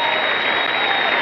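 Dense, steady audience applause fills a tribute show honoring Charley Pride, sustained and loud without a break.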